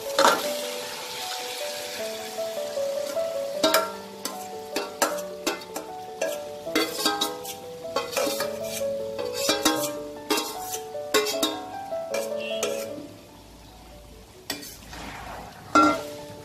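Marinated mutton drops into a hot pan with softened tomato for a Bengali mutton curry, sizzling steadily while a utensil clinks and scrapes against the pan in repeated stirring strokes.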